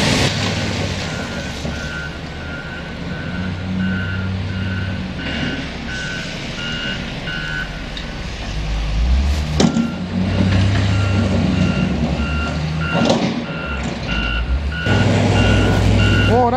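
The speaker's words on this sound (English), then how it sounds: "You don't often see two wheel loaders like that, both plowing at the same time, same place." Two wheel loaders plow snow on a Montreal street, their steady reversing beeps repeating over a loud, continuous diesel rumble, with occasional clanks and hisses.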